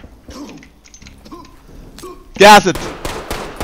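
A sudden loud burst of gunfire erupts midway through a tense Ready or Not police raid, with a few follow-up shots, after terse radio-style voice commands are spoken over quiet background.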